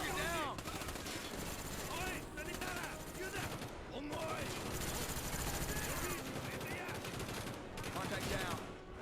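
Mac-11 submachine gun fire in a Call of Duty game: rapid automatic bursts rattling almost without pause, mixed with shouting voices and battle noise throughout.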